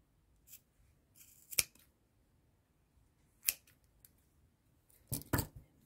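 Scissors cut knotted yarn threads for amigurumi tassels: a few crisp, close snips spaced across quiet pauses, the last two coming in quick succession.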